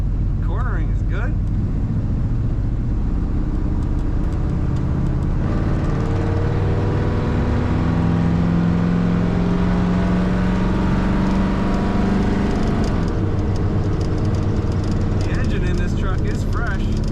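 A lifted 1975 Chevrolet Silverado truck drives down a road, a steady low engine drone and road rumble heard from inside the cab, with someone talking over it throughout.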